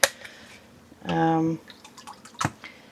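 Wool soak is squirted into a rinsing tub of cold water with a brief splashy pour and a few drips, surrounded by small clicks and handling noises, with a voice speaking around the sound.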